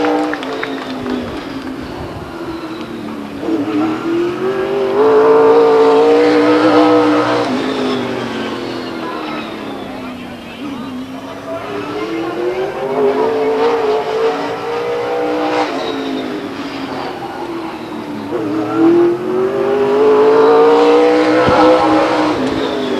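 Late model stock race cars lap Stockton 99 Speedway, their engines swelling and fading in three long loud passes, with rising and falling pitch as each car roars by.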